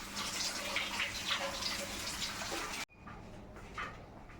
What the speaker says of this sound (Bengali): দইয়ের এই টুপগুলোকে খুব ভালোভাবে আগে ধুয়ে নিতে হবে।